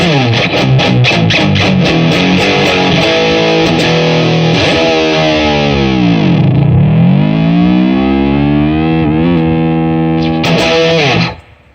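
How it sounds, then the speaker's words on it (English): Loud, distorted electric guitar chords ring out with a thick, saturated tone and a reverb tail, including a sweeping bend in the middle before stopping abruptly. "the overdrive distortions coming right from the amp"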